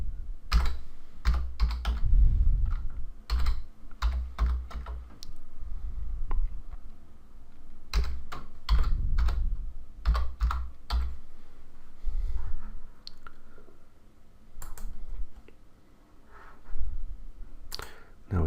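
Bursts of quick keystrokes on a computer keyboard type out a folder name, clustered clicks separated by short pauses, close and fairly quiet.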